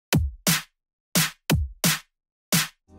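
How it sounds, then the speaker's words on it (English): Drum samples in a music production beat, a kick and snare pattern with sharp, bright, punchy hits alternating with low thumps in a steady repeating groove, dry and close with silence between hits. "I add a snare."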